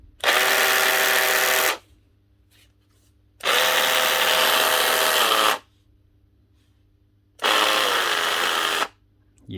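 A Makita DSD180 cordless drywall saw with a burnt-out motor runs in three separate harsh, buzzing bursts of about two seconds each, with near silence between them.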